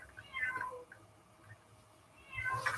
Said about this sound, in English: Can you guys hear my crazy cat?